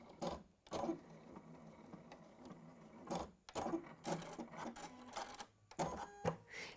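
A sewing machine runs a line of stitching in several short bursts, each a close buzzing whir, separated by brief pauses and quieter handling noise.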